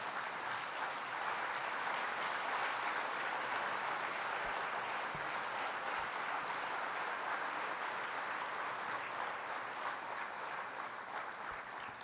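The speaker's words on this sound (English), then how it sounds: "We need to stand and give him a huge round of applause." Sustained applause from a large audience giving a standing ovation to a bank's leader at an annual banking meeting, steady dense clapping throughout.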